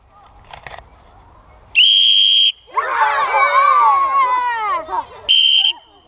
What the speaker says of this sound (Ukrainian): Все починається, по-моєму, свисточку.